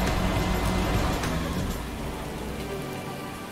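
Steady rain in a farming simulator game set on a Thüringen map, a constant close hiss of falling drops that eases slightly toward the end, with no talk.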